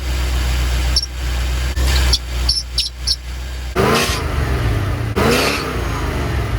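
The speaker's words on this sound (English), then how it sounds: "I'm getting a weird squeaking noise from underneath the hood." Short high-pitched squeaks from under the hood of a 1989 Chevrolet Corvette C4 repeat in a quick irregular cluster over a steady engine hum, cold engine with air conditioning on, followed by two louder rising whirring bursts as the engine revs.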